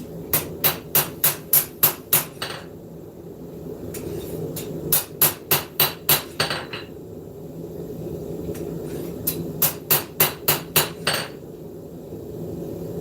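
Rehandled ball peen hammer forging a knife, close ringing metallic strikes in quick bursts of six to eight blows separated by short pauses and lighter taps, with a low hum underneath.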